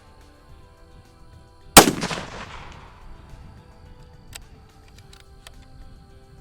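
A single sharp rifle shot from a Christensen Arms Traverse in 6.5 PRC cracks loudly at a shooting range, followed by a brief decaying echo and quiet afterward.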